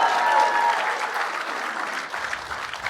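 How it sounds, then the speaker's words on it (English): Church audience at a comedy show clapping together, a dense, fairly loud burst of applause that thins out slightly toward the end. "Clap if you love Jesus."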